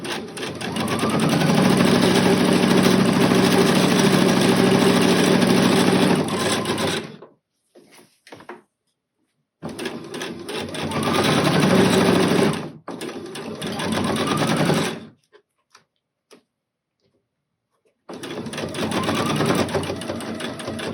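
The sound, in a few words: sewing machine stitching fabric shut for an African dress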